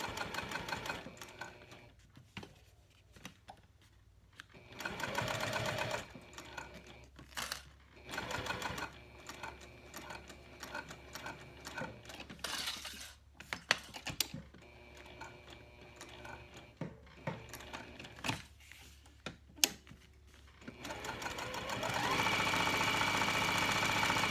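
A sewing machine stitches fabric edges of a key fob wallet in stop-start runs, close and fairly loud rhythmic mechanical whirring with short pauses between bursts, no talking.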